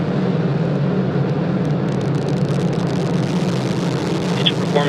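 An Antares rocket's engines rumble during the NG-12 launch at Wallops Flight Facility in Virginia, a steady low roar under a voice calling out status over a loudspeaker.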